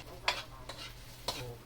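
Ginger hitting a hot pan for stir-frying, giving a few short bursts of sizzle and stirring scrapes spaced about half a second to a second apart, over a low steady background hum.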